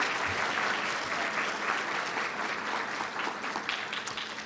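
Steady, full applause from the audience at a student awards night for a recipient named Larissa, a continuous dense roar of clapping that tapers slightly near the end.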